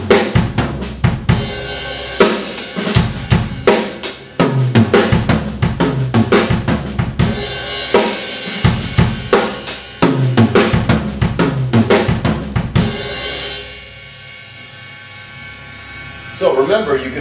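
Crisp drum hits tumble in a quick, evenly spaced linear fill with a left-hand accent on beat one, repeated several times, before ringing cymbal decay closes it out.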